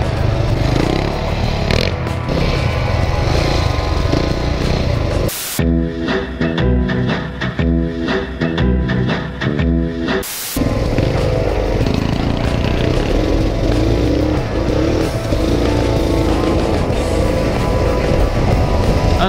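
Two stock Suzuki DR650 motorcycles ride a wet, muddy, leaf-covered dirt trail, engines droning loud and close throughout, with a short stretch midway where the sound changes character before the engine roar returns.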